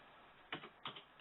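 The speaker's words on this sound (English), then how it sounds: "You can then, just do type in a date," Two short clusters of key presses on a computer keyboard while a date is typed into an archive search field, quiet and close over a soft steady hiss.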